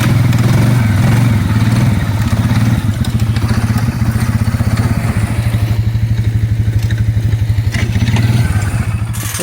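Engine of a four-wheeler running steadily under load while a winch anchored to a tree drags a stuck vehicle out of deep snow; a loud, continuous chugging drone with a fast, even pulse, no talk.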